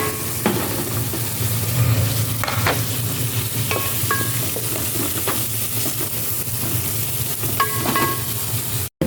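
Food sautés in a hot frying pan in a home kitchen, a steady loud sizzle broken by the scrape and clink of a utensil stirring, with no voices.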